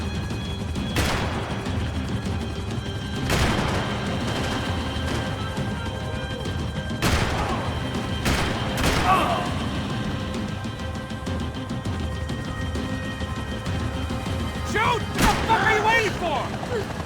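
Gunfire in Max Payne 3, rendered as sharp, loud cracks and impacts scattered irregularly through a dense, noisy game soundscape, with bursts near 1, 3.5, 7–9 and 15 seconds.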